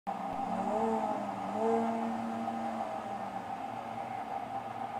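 A car in a video game hums with a steady, sustained engine drone, rising slightly in pitch partway through, then settling into a smooth continuous tone.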